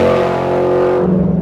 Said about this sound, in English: you're gonna love our S-type exhaust.